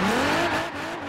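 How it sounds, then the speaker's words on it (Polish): A car in the Forza Horizon 4 racing game launches hard with no launch control, its engine revving up at once in a rising, close, loud whine over about a second, with no talk. "Czyli dodaję od razu gazu bez launch control."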